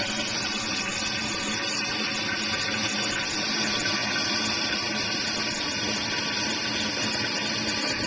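A toilet bowl and tank refill with water after a flush, following a new flush valve install; a steady, loud rushing and hissing of water runs continuously throughout with no pauses.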